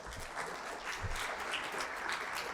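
Audience at the final round of the 2025 Grenlec Debates breaks into steady, warm applause, a dense wash of clapping that holds evenly from start to finish at moderate level.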